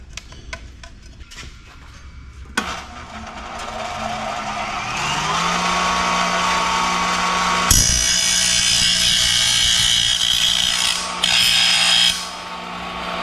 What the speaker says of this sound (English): let's go throw this on a grinder